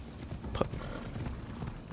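In the Assassin's Creed Odyssey video game, a horse's hooves clop steadily at close range over about two seconds, with one short, sharp accent partway through.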